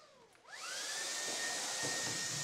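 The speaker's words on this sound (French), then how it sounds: "Nous avons un aspirateur sans fil." A cordless stick vacuum cleaner switches on with a rising whine and then runs steadily, a loud, even airy roar close to the microphone with no talk over it.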